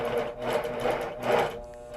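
A sewing machine stitches quilt fabric in a steady, fast mechanical whir with rhythmic needle clatter that swells and eases slightly, running continuously up close before slowing near the end.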